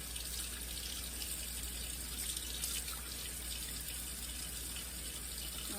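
Steady hiss of lukewarm tap water running continuously into a sink, close and even throughout with no talking.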